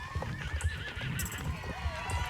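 A draft horse in the Star Stable Online game clip-clops along in a steady hoof rhythm with whinnies over the top, while a person talks throughout.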